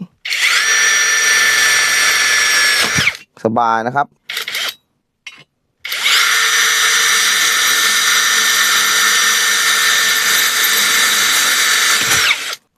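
A Masaru SCDS-175 cordless screwdriver in second-gear drill mode bores through 1.5 mm steel box tube, giving a loud, steady high whine in two long bursts separated by a short pause with a brief spoken remark.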